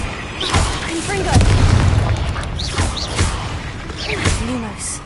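In Hogwarts Legacy, the Confringo fire spell goes off in loud blasts that rumble and roll on, joined by shorter bursts and game voice cries and chirps.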